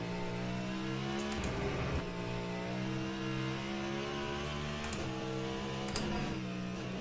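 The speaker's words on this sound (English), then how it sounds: "it sounds brilliant, this car, though," A hypercar engine in the racing game Le Mans Ultimate revs loudly and steadily, its harmonic whine stepping through a few quick gear shifts with brief clicks, and no talk over it.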